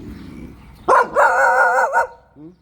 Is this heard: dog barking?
yes